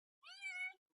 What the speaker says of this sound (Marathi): गाईज चिन्नीसाठी सुद्धा कॅट फूड आणलंय बघा